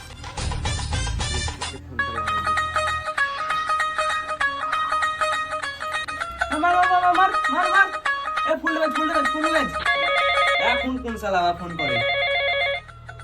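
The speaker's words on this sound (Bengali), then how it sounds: "বাপরে ঋত্বিককে ফোন লাগায় একটা।" A phone rings with a melodic electronic ringtone that repeats steadily for about thirteen seconds, fairly loud and close, with no talking over it.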